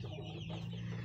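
Chickens suffering from coryza cluck close by in a short burst, a steady low hum underneath the soft fowl calls.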